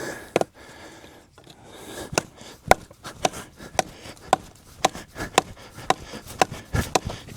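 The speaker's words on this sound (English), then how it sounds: "I really like chopping with this with one hand" Repeated sharp chopping strikes of a machete into wood, about a dozen blows in a steady rhythm, close and crisp, with brief pauses between some hits.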